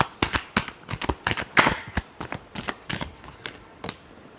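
Tarot cards are shuffled by hand in a quick run of sharp, close riffling snaps, about a dozen in an uneven rhythm, with no voice over them.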